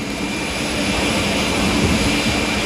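A Sikorsky VH-3A presidential helicopter, a Sea King derivative, gives off a steady, loud roar of engines and rotors that holds even throughout, with no voices over it.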